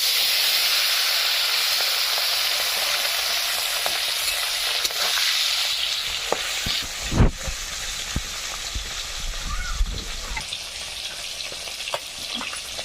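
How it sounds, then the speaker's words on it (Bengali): Shati fish rubbed with turmeric and salt fries in oil with a loud, continuous sizzle, later broken by a few clanks and bumps of the pan or utensil. "মাছটা হলুদ লবণ মেখে নিয়েছি, এবার ছেড়ে দিচ্ছি।"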